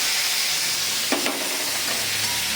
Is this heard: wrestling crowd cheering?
no